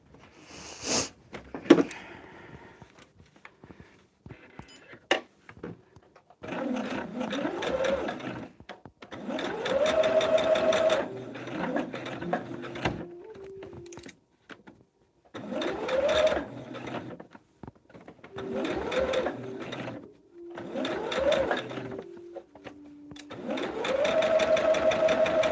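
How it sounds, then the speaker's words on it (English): A sewing machine stitching a table topper, running in bursts of rapid mechanical whirring separated by short pauses, heard close and clear. "And then we're gonna sew."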